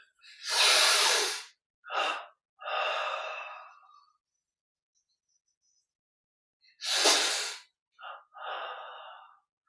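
Slow, deep breathing during a guided Kriya Yoga meditation: close breathy inhales and exhales in two clusters with a long silent pause between, no talking.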